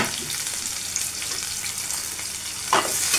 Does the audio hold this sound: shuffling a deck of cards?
no